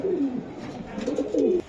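Pet pigeons, including Iranian and Budapest breeds, coo up close at a bird sale, a few rolling low calls in quick succession with no talk over them.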